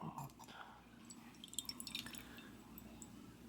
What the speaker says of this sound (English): Let it drain.